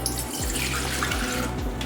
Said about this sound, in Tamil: கொஞ்சம் தண்ணியும் சேர்த்துக்கிறேன்.